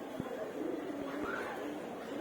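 A young pigeon coos softly alongside its mother in a loft, low rounded calls repeating at a moderate distance, faint and partly mixed with a quiet background voice.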